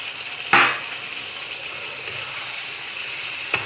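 Spices fry in oil for doi potol, a steady close hiss of sizzling with a sharp clatter near the start and a small knock at the end, with no talking.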